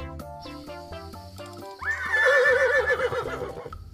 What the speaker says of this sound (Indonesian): ada seekor induk kuda yang lagi ngamuk